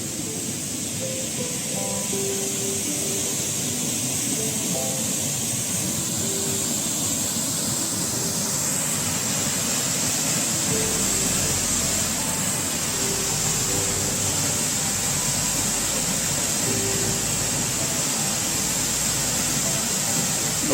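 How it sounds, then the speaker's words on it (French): Cascade d'Eilloux, a waterfall about ten metres high in the Ain, pours with a steady, dense rushing roar that holds even and unbroken for about twenty seconds, close by and with no voices. "cette cascade s'appelle la cascade d'Eyou, sur la commune qui porte le même nom"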